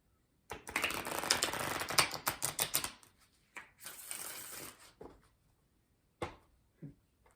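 A Spirit Animal Oracle card deck being shuffled: a long run of crisp, rapid riffling, then shorter rustling bursts and a few soft taps as a card is drawn, all close and fairly quiet.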